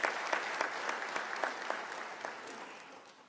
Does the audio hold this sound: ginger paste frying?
no